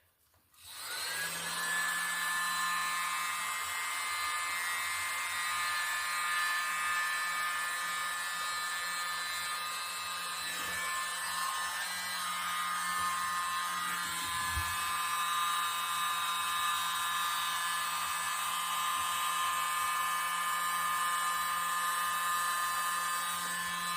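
Hair dryer blowing white paint across a Dutch acrylic pour, a steady high-pitched whine with constant airflow hiss that runs nearly the whole time, close and loud with no talk.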